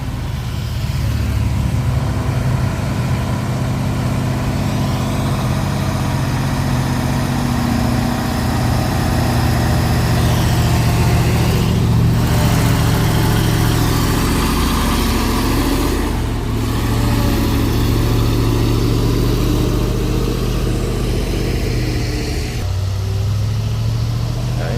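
Heavy Fuso intercooler tronton truck engine idling steadily up close, a loud continuous low rumble with a faint brief dip or two in the middle and near the end, no talking.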